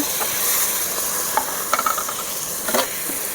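Chopped tomato tossed into a pan of frying onion with garlic and ginger paste, giving a steady close sizzle with a few scraping stirs and clinks partway through.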